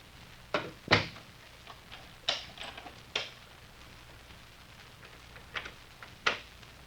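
Doors in a radio drama shut and lock in a string of sharp knocks and latch clicks, about seven separate thuds and clacks spread over several seconds, close and fairly quiet against a low background hum.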